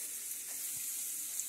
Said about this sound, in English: You know what that is? That's delicious bacon.